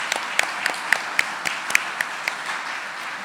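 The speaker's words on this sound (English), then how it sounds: "Let's give them a round of applause." At a Golden Apple gala, one nearby pair of hands claps in a steady, even rhythm, each sharp clap distinct, over a softer bed of wider audience applause that tapers off toward the end.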